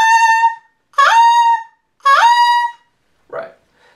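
A saxophone mouthpiece played alone produces a steady reedy tone, then two tongued scoops with crisp attacks that bend upward into held notes. A short breathy sound follows near the end.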